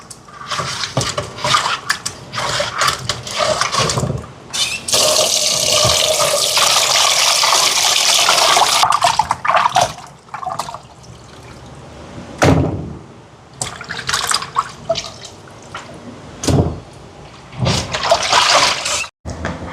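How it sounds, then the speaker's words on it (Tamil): Fish for a Jaffna-style aviyal is scrubbed by hand in a bowl of water with turmeric powder and salt, producing close, irregular splashing, sloshing and clinks of the vessel in bursts separated by brief pauses. "இனி மஞ்சள் தூளும் உப்பும் சேர்த்து நல்லா கழுவி எடுப்போம்"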